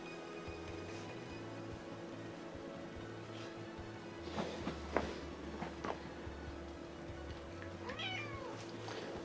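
Game cat from Paper Mario meowing: a few short mewing calls near the middle and one more toward the end, heard over steady background music with low hum.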